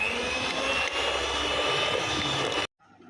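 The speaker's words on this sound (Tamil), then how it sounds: "இப்போ இதை ஒரு பீட்டர் வச்சு பீட் பண்ணிக்கலாம்." Electric beater whirring as it beats room-temperature butter for a bakery-style pudding cake batter, a steady close motor hum with a high whine, running continuously before cutting off abruptly near the end.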